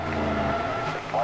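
A race car spins out in the NASCAR 2011 video game, with continuous engine roar and tire squeal, loud and close throughout.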